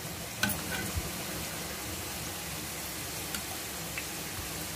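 Garlic crackles and sizzles in hot oil for a tempering, a soft steady fry with a few sharp pops near the start and occasional stirring clicks.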